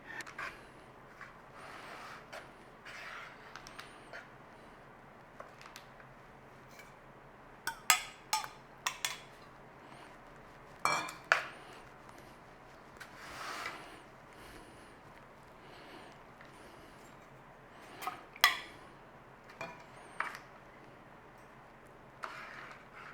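A spatula scrapes and taps through sticky gingerbread mix spread in a baking tray, giving scattered soft smears and a few sharper clicks against the tray over a quiet kitchen background.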